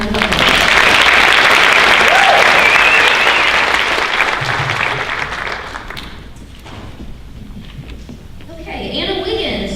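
Crowd in a school auditorium applauding during a high school honors night, loud steady clapping for around six seconds, then tapering off into low crowd murmur with a voice rising near the end.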